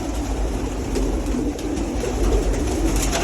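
A flock of French meat pigeons coos in a pigeon loft in Egypt, overlapping low calls rolling on over a steady rumbling background, with no speech.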